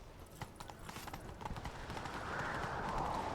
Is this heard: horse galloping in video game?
yes